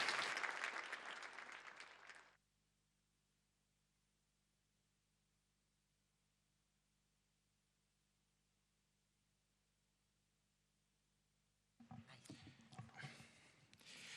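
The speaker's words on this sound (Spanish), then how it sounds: "vamos a darle un fuerte aplauso, digo bien, a todos para dar inicio a la actividad" Applause from a forum audience in a hall cuts off abruptly into near silence with a low hum, then clapping and crowd noise return after a long pause.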